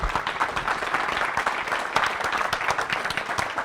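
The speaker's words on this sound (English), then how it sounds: "Give her a round of applause." Steady audience applause at a startup workshop, a close, continuous wash of many hands clapping without pause for several seconds.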